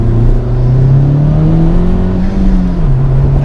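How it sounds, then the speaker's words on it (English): Steady whirring engine drone from a Honda Civic Type R FK2 turbo hatchback, with a rising tone as the turbo spools, loud and close with no talk. "you get the turbo spool"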